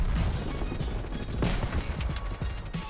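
A grenade blast in Call of Duty Black Ops Cold War lands as a sharp, booming crack in the middle of ongoing clatter and scattered gunshot-like impacts.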